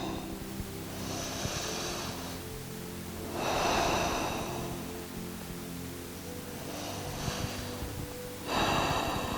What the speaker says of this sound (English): just taking a moment just to slow the breath down